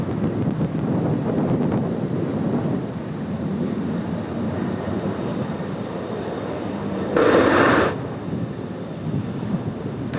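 A Finnair airliner takes off from Sydney Airport, heard from a distance as a broad, steady jet roar under wind noise, with a brief brighter surge near the end.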